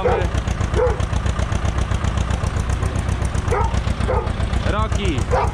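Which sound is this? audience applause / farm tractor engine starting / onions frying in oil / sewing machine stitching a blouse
farm tractor engine starting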